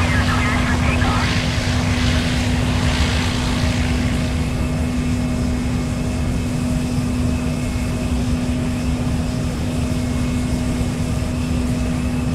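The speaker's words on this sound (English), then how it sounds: "Flight 527, runway 8 kilo, we are cleared for takeoff." An airplane engine in a flight simulator game on Android roars steadily with a constant droning hum throughout, as if running up for takeoff, with a voice speaking over it.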